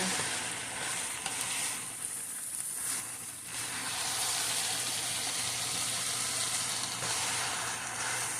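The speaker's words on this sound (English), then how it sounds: "Listen to that sizzle." Steady, crackling sizzle of noodles frying in an overcrowded hot pan, close and continuous with faint stirring noises, no voices.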